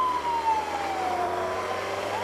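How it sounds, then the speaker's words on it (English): A distant siren wails with a slow, falling tone over steady early-morning Hollywood street traffic noise, faint but continuous. "I hear a siren, trying to figure out where it is."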